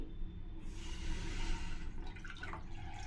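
Water from a bottle poured into a wide-mouthed cooking pot, a continuous close splashing pour for a few seconds with no speech.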